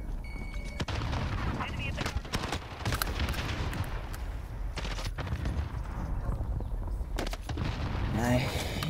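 Submachine gun fire in Call of Duty: Modern Warfare, a dense run of sharp shots in rapid bursts over a busy game mix, with a few louder near cracks standing out.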